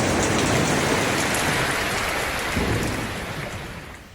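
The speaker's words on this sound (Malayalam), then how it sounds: "അപ്പം മഴയൊക്കെ ഒന്ന് കുറഞ്ഞിട്ടുണ്ട്" Heavy rain pours steadily with a deep roll of thunder underneath, the downpour easing slightly toward the end.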